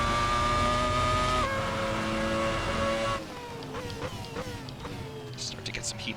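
Engine revving in the Assetto Corsa racing game on a classic car, a loud sustained harmonic drone that drops in pitch as gears shift, then rises again in repeated climbing sweeps, with a voice talking over it.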